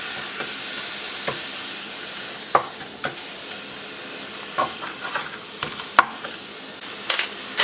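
Seafood pancit Malabon noodles sizzle in a pan as a little broth is added, with a constant steamy hiss and irregular scraping stirs and clinks close by.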